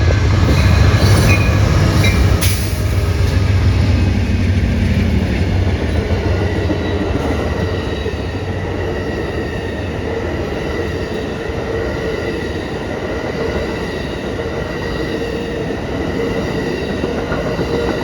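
An Amtrak #5 train with a few extra cars and an added engine pulls out of Chicago's Union Station, giving a loud, steady rolling rumble with heavy low-end drone and faint wheel squeal, no voices.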